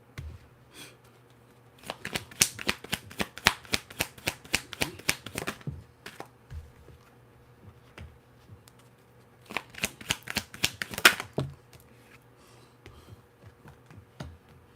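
A deck of cards is shuffled by hand in two bursts of rapid riffling clicks, crisp and close, separated by a short pause.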